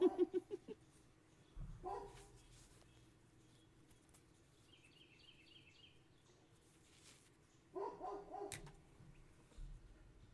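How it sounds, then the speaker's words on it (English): A dog barks outdoors, heard faintly at a distance in short bursts near the start and again later, with quiet stretches between. "Whose dog? It's outdoors. It's the outdoors' dog."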